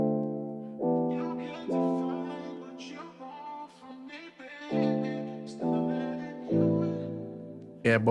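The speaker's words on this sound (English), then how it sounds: "I'm using an auto filter by itself. It sounds like this." An Afrobeat-style chill beat with added vocals runs through an auto filter effect, its layered chords and melody swelling and sweeping in repeated filtered phrases, loud and close with no talking over it.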